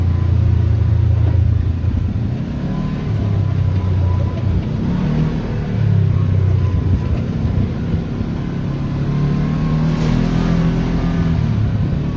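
A Kawasaki KRX 1000 UTV engine rolling downhill on a canyon dirt trail in engine-braking descent, a loud, steady low drone with shifting pitch and rumble, with no talk over it.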